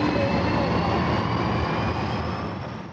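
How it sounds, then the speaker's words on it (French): An airplane takes off with a steady, broad engine roar that holds evenly and then slowly fades toward the end, with no voices. "Nous allons décoller dans quelques secondes."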